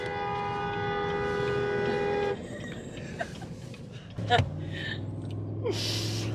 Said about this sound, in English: please honk the horn really hard